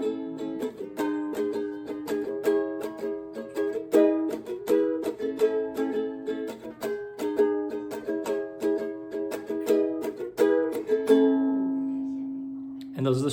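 Ukulele strumming the chords of a song in a steady down-up pattern, bright and close, ending on a sustained ringing chord.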